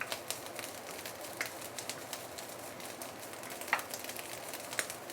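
Dried preserved radish (caipo) is stirred in a hot pan, giving a soft, steady crackle with a few sharp ticks and scrapes scattered over about five seconds, fairly quiet and with no talking.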